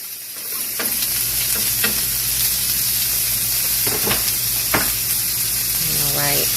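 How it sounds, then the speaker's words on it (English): Chopped vegetables sweating in a hot pan, a steady loud sizzle and hiss with occasional stirring scrapes and clinks on top, close up. "we're gonna go back over to our pan where our vegetables are keep sweating"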